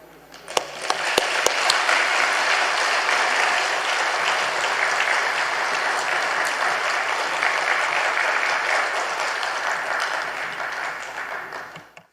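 A church congregation applauds to welcome the pastor at a men's mission dedication service, with sustained loud clapping for about ten seconds, then fading.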